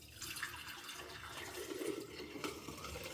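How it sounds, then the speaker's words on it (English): Homemade broth poured through a strainer, a continuous close splashing and trickling of liquid lasting a few seconds with no voices. "I'm just running this broth through a strainer"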